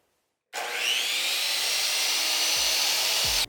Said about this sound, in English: Then I cut each dowel at the first marking before measuring again and cutting again.